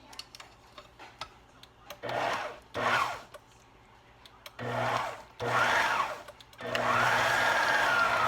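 An electric hand mixer whirs through sweet potato pie filling in a home kitchen, running in five short bursts that grow longer, with a steady motor hum under the beaters' scraping and quiet pauses between.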